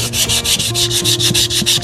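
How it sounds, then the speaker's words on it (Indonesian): Wet sanding of a painted surface with fine sandpaper and water before clear coat, a loud, close, steady rhythmic rubbing of quick back-and-forth strokes with no talking. "Amplasnya juga pakai air. Amplasnya harus pakai air."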